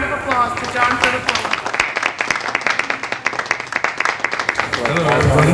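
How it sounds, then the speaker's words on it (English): Crowd applause fills a room for a speaker called to the front, dense overlapping claps holding steady and loud throughout, with a brief murmur of voices near the end. "everyone give a round of applause to John Philip"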